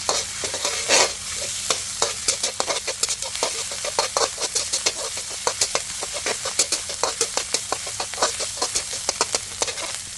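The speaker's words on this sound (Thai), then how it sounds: "จากนั้นก็ผัดต่อค่ะ ผัดไปเรื่อยจนกว่าเครื่องแกงจะทรงกลิ่นหอมขึ้นมาค่ะ" Vegetarian curry paste stir-fried in vegetable oil in a pan, with a spatula scraping and tapping in a quick, regular rhythm over constant close sizzling and no speech.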